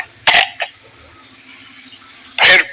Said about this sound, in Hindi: खांसी भी आई